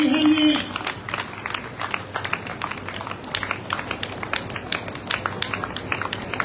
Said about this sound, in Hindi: तालियां बजती रहे, तालियां इतनी बजा रहे